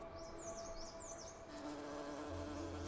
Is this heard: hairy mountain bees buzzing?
yes